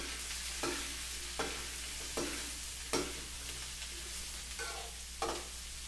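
Utensil scraping and stirring bottle gourd and sponge gourd with dried shrimp, salt and pepper in a pan, with soft repeated strokes every second or so over a low steady sizzle; no voices.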